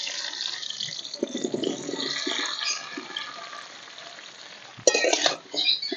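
Jujube plums frying in mustard oil in a kadai with panch phoron, dried chilli and bay leaf, a soft crackling sizzle with stirring scrapes, then a sudden louder burst of spluttering near the end.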